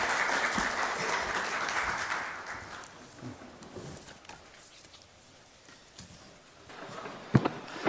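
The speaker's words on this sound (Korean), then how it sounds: "큰 박수로 환영해 주십시오." Conference audience at a presentation in Seoul claps to welcome a speaker, loud applause at first that fades out over a few seconds, followed by faint room noise and a sharp knock near the end.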